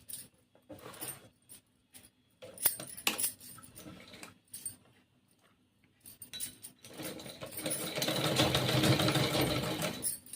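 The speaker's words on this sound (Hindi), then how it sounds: "हमने लाइनिंग की फैब्रिक को इस तरह से सीधे पे रख के सिलाई कर दी है" A sewing machine stitches lining fabric for a lehenga, running in short start-stop bursts and then settling into a longer, steady run of close, busy mechanical whirring near the end.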